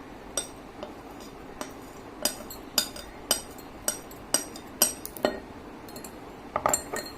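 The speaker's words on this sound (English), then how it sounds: "So let me just put this lentils over here in this one." A series of sharp clinks, like small utensils or grains tapping against a glass of water, in an indoor classroom setting, about a dozen distinct hits spaced unevenly, close and fairly bright, with no talking.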